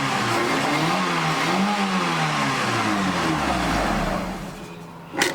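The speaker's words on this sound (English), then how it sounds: "it revs up pretty good too" A third-generation Mitsubishi Eclipse GS engine, which won't idle, revs up loudly, its pitch rising and falling in waves before dropping off, followed by a sharp click near the end.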